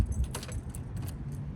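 Door locks on a 1989 Plymouth Voyager SE Turbo clack and rattle as a key works them, a quick metallic jangle over a low, steady background rumble.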